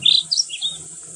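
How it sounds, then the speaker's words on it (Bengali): A bird at India Gate in Delhi gives three quick, high chirping calls in a row, with faint background hum behind them. "দেখতেই পেলে ওই পাখিটার আওয়াজটা আমি দিলাম"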